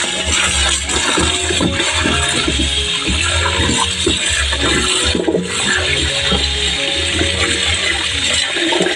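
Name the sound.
washing cut cassava pieces in water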